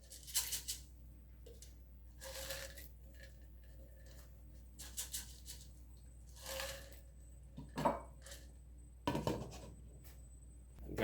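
Soft clinks and scrapes from a pot as deboned fish goes back in with pimento berries for a savory fish soup, scattered quiet knocks and rattles with gaps of near silence.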